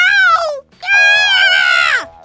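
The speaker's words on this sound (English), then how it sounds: "That sure is some scream." A woman screams loud and shrill after eating a Carolina Reaper pepper, a short cry breaking off, then a longer sustained wail that slides downward at the end, heard close and alone.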